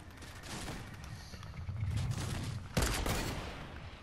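Gunfire in the battle royale video game Fortnite: a rattling volley of shots builds over several seconds, then one sharp, loud blast lands near the end, with the firing continuing afterward.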